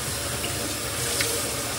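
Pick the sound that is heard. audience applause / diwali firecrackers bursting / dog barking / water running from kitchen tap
water running from kitchen tap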